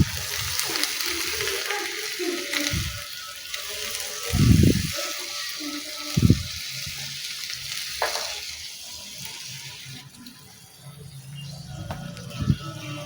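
Soya chunks, peas and potatoes frying in oil as they are stirred and mixed, a steady sizzle broken by a few louder scraping stirs, close by with no talking.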